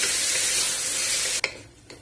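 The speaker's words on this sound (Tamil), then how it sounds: "இப்ப நம்ம எடுத்து வச்சுட்டு இந்த தக்காளி சேர்த்திடலாம். இந்த தக்காளியும் கொஞ்ச நேரம் வதங்கட்டும்." Tomatoes sautéing in a pan give a steady, close, loud hiss of frying that cuts off abruptly, leaving a couple of faint clicks and a soft stir afterward.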